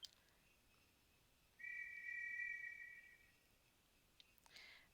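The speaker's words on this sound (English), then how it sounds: "the Heavenly Messenger blew his whistle from on high" A whistle is blown from on high in the video game Dragon Quest X: one faint, steady, high tone lasting about a second and a half over quiet background ambience.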